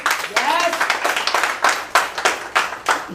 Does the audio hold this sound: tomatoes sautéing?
no